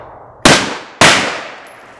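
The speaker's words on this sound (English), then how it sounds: "now I'm going to try to shoot unsighted at that target" Two sharp, loud handgun shots fired from inside a purse, about half a second apart, each cracking suddenly and then fading away, with no talk.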